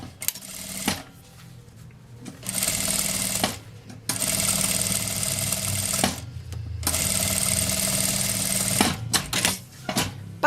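A sewing machine stitches a safety seam across a zipper on a small child's backpack, running in three long steady bursts with brief pauses between.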